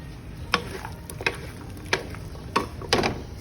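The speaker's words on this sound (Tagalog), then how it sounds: "stir it again" Sausage menudo with potatoes and carrots stirred in a pan, a spoon scraping in short separate strokes about every half second to second over a faint steady sizzle, close by, no voices.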